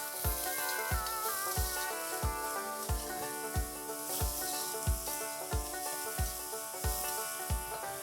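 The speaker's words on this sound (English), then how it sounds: "Now I want you to saute the onions till they are nice and brown and golden in color." Chopped onions sauté in hot oil with cumin seeds, heading toward a golden-brown color. A steady, close sizzle runs throughout, with a soft, regular knocking that repeats about every half second.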